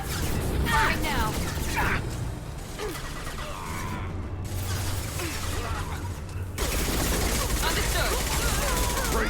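Rapid gunfire in the sci-fi shooter Mass Effect 2, dense bursts and clatter running almost continuously with a brief lull midway, loud and close over a busy battle mix with some talk.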